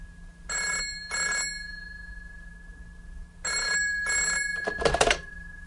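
A telephone bell ringing before a formal office call, four clear double rings in a regular pattern close to the listener, with a brief clatter at the end like the receiver being picked up.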